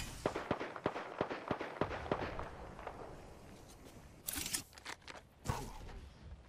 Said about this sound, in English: Throw my grenade out.